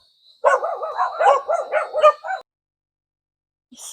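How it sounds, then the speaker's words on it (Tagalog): Several dogs bark in a quick, overlapping burst of yaps and barks close by outdoors, then fall silent, with a faint sound returning at the very end. "Oh, nagsitahulan yung mga aso."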